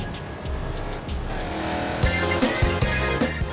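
Hummer fitted with a 6.2-litre V8 petrol engine racing in Forza Horizon 4, a steady loud engine drone that rises in intensity midway, with sharp bursts and thuds from about two seconds on, no talking.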